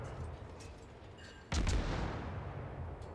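Naval guns boom in the World of Warships video game: a sudden loud blast about halfway through, with a rumbling tail that decays under the continuing background.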